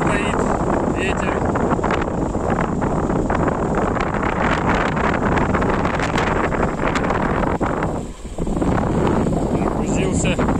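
Wind buffets the microphone in a continuous rough roar that barely lets up, with only a short dip near the end, in a hot field during grain harvest.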